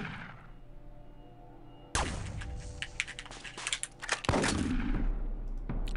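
Gunfire in the video game UFO Aftershock, with a burst of rapid shots that begins abruptly and is followed by more loud reports over a constant background hum.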